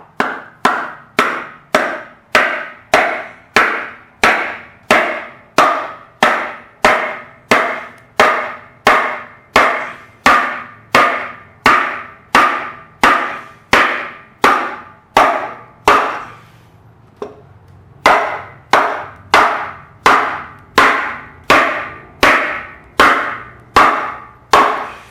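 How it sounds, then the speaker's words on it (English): Old cylinder liners are hammered out of a Ford tractor engine block resting on the floor: a long run of sharp, evenly spaced metallic blows, loud and close, with one brief pause partway through. "I'll get a lot better drive with my hammer when I'm hitting it."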